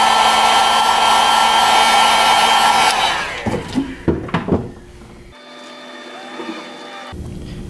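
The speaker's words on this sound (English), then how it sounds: "hit it with the heat gun once again" A heat gun blows a loud, steady whooshing roar for about three seconds while warming the edge of an iPhone screen protector, then cuts off, leaving a few close handling taps and a faint hum.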